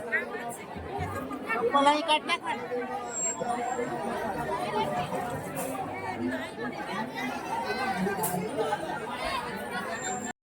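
A dense crowd of people at a temple on a busy day, voices merging into a steady babble of chatter that stays loud and continuous throughout, with no single voice standing out.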